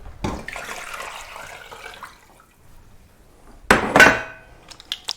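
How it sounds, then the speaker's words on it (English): Four quarts of cold water gush steadily into a pot holding chicken legs and thighs for a couple of seconds, then a louder splashing burst follows, with a few clinks near the end. "We're going to add 4 quarts of water, cold water."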